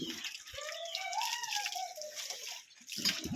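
Water being poured at a family home makes a quiet, brief splashing stream with a rising, filling tone, ending in a short burst of noise.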